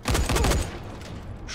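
A short rapid burst of gunfire from the video game Dying Light, loud for about half a second, then trailing off into a low echoing tail.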